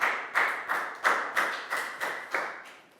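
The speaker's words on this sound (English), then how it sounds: "High five, round of applause for Pangpon." Classroom clapping for a student after a presentation, a few hands striking in about eight distinct, evenly spaced bursts that fade slightly toward the end, fairly close and with no talking.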